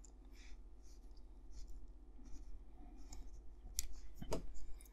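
A screw being tightened on the sun visor of a Ghostbusters Ecto-1 scale model: quiet, close scratchy scraping and small clicks in short irregular bursts, growing a little busier toward the end.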